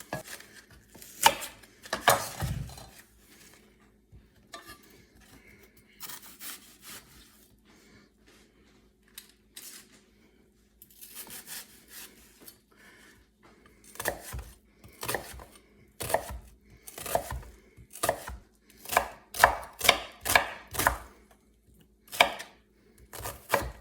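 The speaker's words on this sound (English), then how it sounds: "we're going to chop the onion" An onion is chopped with a knife on a board, with sparse knocks at first, then a quiet pause, then quick bursts of crisp cuts building to a steady close rhythm, without talk.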